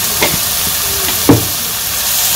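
Spices sizzling as they are fried in a pan with salt, turmeric and chili for a village-style mutton curry, a steady close hiss with a couple of brief stirring scrapes.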